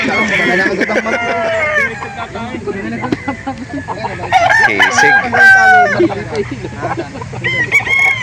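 A rooster crows repeatedly at a live chicken market in Calauan, Laguna, with clucking fowl around and vendors talking loudly over the birds throughout.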